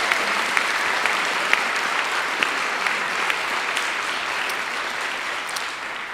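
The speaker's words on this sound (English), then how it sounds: "huge round of applause" Steady, dense applause from a large audience at a high school spring band concert, sustained throughout with scattered sharper claps and no talk.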